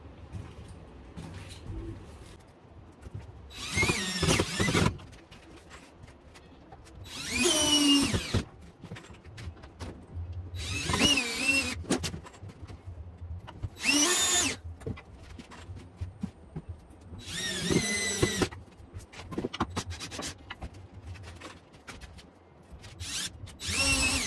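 A power drill drives pocket screws into wood during a camper bar build, several loud whirring bursts of a few seconds each separated by quieter handling noise, with no talking.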